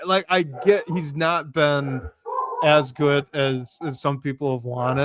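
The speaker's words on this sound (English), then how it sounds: "Apologies for the dogs in the background." Dogs barking at home after the doorbell rang, a few short muffled barks in the background, mostly under continuous close talk and briefly heard alone in a pause.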